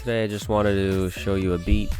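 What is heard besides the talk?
No everyday noise stands out behind the speech.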